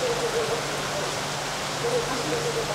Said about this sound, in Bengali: আমরা ওয়েট করতে করতে এই অসাধারণ বৃষ্টি চলে আসলো